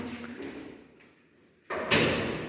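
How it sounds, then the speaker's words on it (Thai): A house door being shut during cleaning, giving one close, loud thud that follows a quiet stretch of room noise, then a brief rush of sound as it settles. "ปิดประตูนะพี่น้อง"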